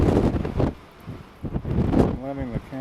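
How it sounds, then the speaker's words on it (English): Strong wind buffets a microphone outdoors at a snow art exhibition in Finland, loud gusty rumbles rising and falling, with a person talking briefly near the end. "Wind is whipping up here."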